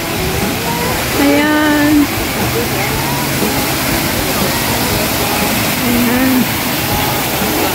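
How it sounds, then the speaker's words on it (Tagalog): A waterfall in Kowloon Park gives a steady, loud broadband rush that fills the whole scene, while someone speaks briefly over it. "may waterfall dito"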